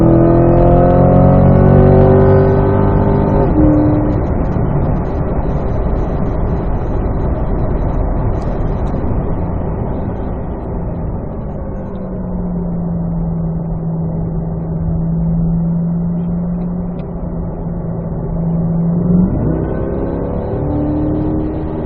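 A 2024 Corvette E-Ray pulls hard down a race track straight, its engine note rising through the gears with a steady loud in-cabin roar, an upshift and a long sustained drone.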